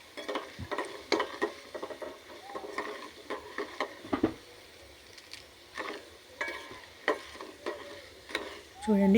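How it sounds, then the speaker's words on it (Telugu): Tempering spices and dried red chillies frying in oil in a bowl over a low flame, a soft continuous sizzle broken by repeated scraping and clinking strokes as they are stirred. "లో ఫ్లేమ్లో పెట్టేసి పోపు దినుసులన్నీ చక్కగా వేగిపోయేలాగా కలుపుతూ ఉండాలి"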